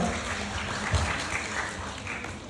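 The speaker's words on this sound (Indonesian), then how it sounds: "Boleh tepuk tangan teman-teman untuk Kak Kezia." An audience at a university open house event gives steady, moderately loud applause, a dense wash of claps that holds evenly for a couple of seconds.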